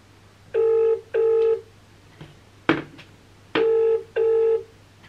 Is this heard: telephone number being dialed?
yes